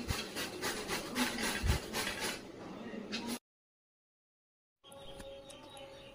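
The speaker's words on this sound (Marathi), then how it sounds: "तर आता मी दुधडी किसून घेणार." A peeled, washed bottle gourd is grated by hand, giving close, steady rasping strokes for about three seconds before falling silent.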